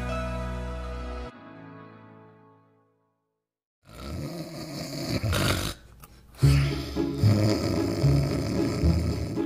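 A person snores in bed: a deep, loud rasping snore fades into a brief silence, then heavier snorting, rumbling breaths return close and strong.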